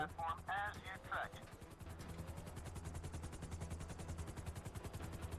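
A helicopter in the video game GTA V Online thrums with a steady, fast rotor chop that fills the scene, and someone speaks briefly over it at the start.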